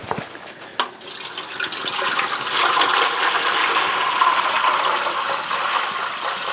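About two quarts of water pour steadily into a container for brining pinto beans, a loud, close rushing splash that builds after a brief clink and continues unbroken.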